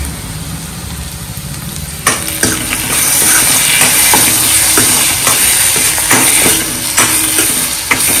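Prawns fry in masala in a pan with a loud, steady sizzle. Metal stirring clatters and scrapes join after a couple of seconds, close to the microphone.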